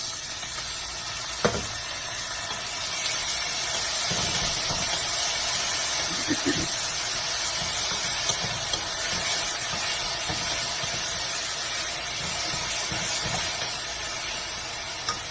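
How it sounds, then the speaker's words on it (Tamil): Onion, tomato, ginger-garlic, chilli, curry leaves and salt sizzle together in hot oil for a chicken salna, a steady loud frying hiss with a few stirring knocks, close and continuous. "எல்லாத்தையுமே ஒன்றா போட்டு சாட்டே பண்ணி எடுக்க போகிறோம்"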